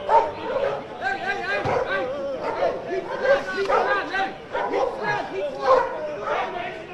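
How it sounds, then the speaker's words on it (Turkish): Dutch police dogs bark repeatedly while police disperse a crowd gathered outside a consulate, sharp barks and yips mixed into constant crowd shouting and chanting nearby. "Hollanda polisi köpeklerle burada toplanan kalabalığı dağıtmak için müdahalede bulundu"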